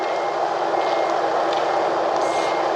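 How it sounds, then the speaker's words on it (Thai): Steady, loud reversing beeps from a trailer truck backing up to a Sumitomo HA60C-8 asphalt paver on a road paving site, with continuous engine rumble underneath and no speech. "ตอนนี้รถพ่วงก็ได้ถอยเข้ามา จะเทยางแอตแลนติกแล้วนะครับ"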